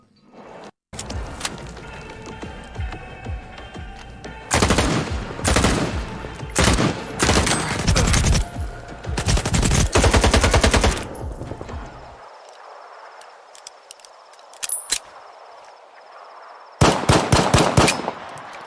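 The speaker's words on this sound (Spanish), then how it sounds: "cada arma nueva que he visto se ve y suena excelente al disparar" Weapons firing in the video game STALKER 2: loud bursts of automatic gunfire and rapid single shots in several clusters, separated by a quieter ambient stretch before a final burst.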